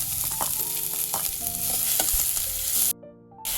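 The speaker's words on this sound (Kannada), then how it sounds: "ಎಣ್ಣೆ ಬಿಸಿ ಆದಮೇಲೆ ಅದಕ್ಕೆ ಕಟ್ ಮಾಡಿ ಇಟ್ಕೊಂಡಿರೋಂತಹ ಈರುಳ್ಳಿ ಹಾಕಿ, ಈರುಳ್ಳಿ ಸ್ವಲ್ಪ ಕೆಂಪಗಾಗೋ ತನಕ ಬಾಡಿಸ್ಕೊಳ್ಳೋಣ" Chopped onions sauté in hot oil for a tomato cabbage stuffed bonda, giving a steady close sizzle with occasional stirring scrapes, cutting out briefly near the end.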